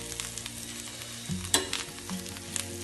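Urad papad pieces frying in a pan while being made into papad chutney, a soft crackling sizzle with a few sharper clicks and scrapes of stirring, close and alone without talk.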